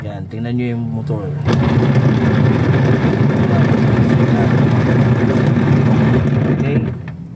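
A noisy washing machine motor runs with a loud, steady droning hum close by for several seconds before it cuts off; a brief voice is heard just before the motor noise swells.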